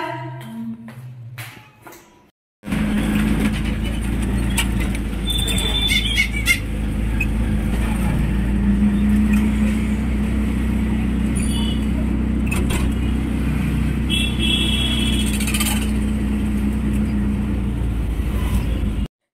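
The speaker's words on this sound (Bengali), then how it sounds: "আমি এখন বেরিয়ে অটো করে আসলাম" Riding in an auto rickshaw: after a brief quieter opening, a loud, constant engine and road rumble takes over, with occasional squeaks and rattles.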